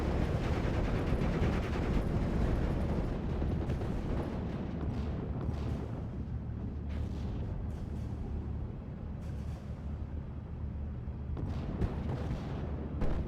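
Continuous booming gunfire and rumbling blasts aimed at an ME-19 aircraft in the game Steel Division, a dense, distant-sounding barrage that pulses with repeated shots and low explosions throughout.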